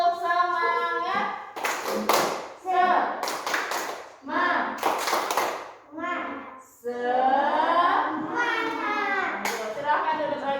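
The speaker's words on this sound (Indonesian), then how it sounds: "mari kita tepuk semangat dulu" A class of young children stands and performs the rhythmic Indonesian 'tepuk semangat' clap, with loud bursts of patterned hand claps alternating with lively chanting voices.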